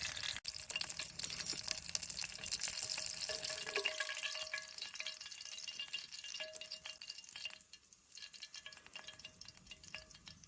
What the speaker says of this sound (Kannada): ಎರಡು ಸೈಡ್ ಚಂದ ಮಾಡಿ ಫ್ರೈ ಮಾಡಿದ್ದೇನೆ